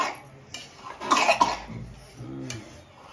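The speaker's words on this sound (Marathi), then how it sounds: "खोकला." A woman cooking in a home kitchen gives a single harsh cough burst, followed by a brief throaty sound and quiet kitchen background.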